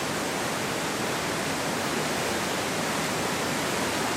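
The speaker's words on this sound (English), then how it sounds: "we can hear the waterfall around the corner" A distant waterfall heard from around a corner: a steady, dense, hissing roar of falling water, constant and unbroken throughout, with no voices.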